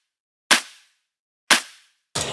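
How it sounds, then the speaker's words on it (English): An electronic drum clap sample plays dry with no effect, three sharp noisy hits spaced about a second apart, each with a short decaying tail, alone against silence. "So I'll drag it on my clap first with the noise parameter toggled on."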